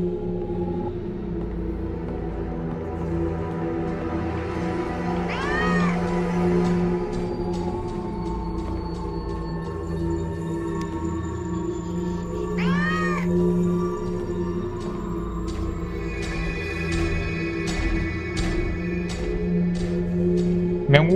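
Cat meows in the video game Animatronics Survival: two distinct meows rise out of a low droning game ambience, one around the middle and one after it, with a steady hum underneath.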